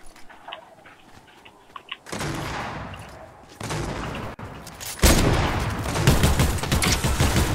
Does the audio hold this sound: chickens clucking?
no